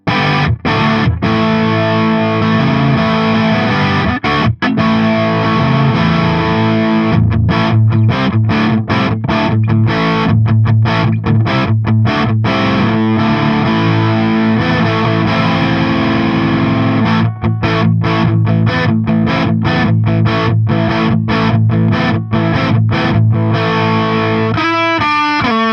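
Donner DST 152S electric guitar on its bridge humbucker through heavy distortion, playing continuous loud driven chords and riffs with choppy stops and restarts for nearly half a minute.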